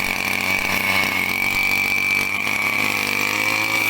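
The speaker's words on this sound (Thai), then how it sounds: "เครื่องตัดหญ้าแบบสะพายสายแข็งครับ" A 2.4 horsepower shoulder-carried brush cutter engine runs at a high, steady whine, loud and close, holding a constant pitch with no pauses.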